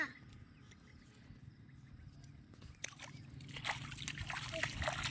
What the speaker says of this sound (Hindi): ये जका बारिश दा पानी है